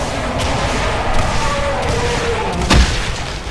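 Explosion in the first-person shooter game Brutal Doom, a dense burst of booming, gunfire-like crashes with a heavier thump near the end, continuous and loud throughout.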